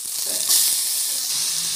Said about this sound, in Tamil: ஆயில் போட்டிருக்கோம். கடுகு சீரகம் சில நல்லா காஞ்சி போயிருக்கு.